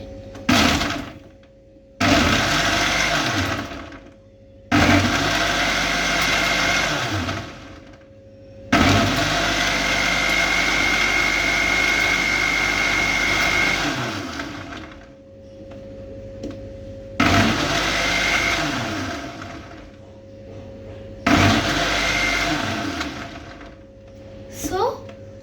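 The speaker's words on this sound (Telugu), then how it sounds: "ఇలా మిక్సీ చేసేసుకొని" A mixer grinder blending mango milkshake whirs in several loud bursts separated by short pauses, a steady droning motor hum throughout each run.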